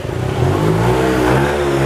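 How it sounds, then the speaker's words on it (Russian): Motorcycles rev loudly on a city street in Spain, a strong, continuous engine roar with rising pitch that fills the whole moment, close by and with no talking over it. "Боже, как я не люблю эти мотоциклы гребаные. Как же они орут."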